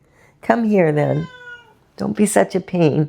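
A pet cat lets out a long, clear meow up close, followed by someone talking to it in a soft voice.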